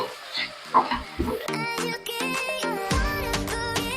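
Red chili sauce and tomato ketchup are stirred into veg manchow soup in a pan, a soft scraping and faint sizzle that is soon joined by steady background music.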